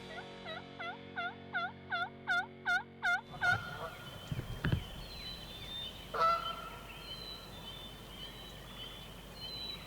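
Wild turkeys gobbling outdoors, a rapid run of rolling gobble notes followed by later scattered calls and a further gobble over a soft open-air background.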